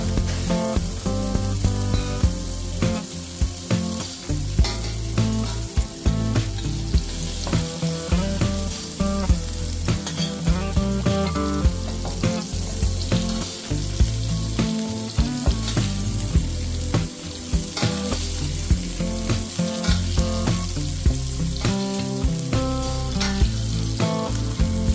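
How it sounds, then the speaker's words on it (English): Catfish being basted with melted butter in a frying pan gives off loud, continuous sizzling and crackling, with rhythmic spoon scrapes and splatters over background music. "Add a little butter to your pan, let it melt, and then baste the fish with the butter."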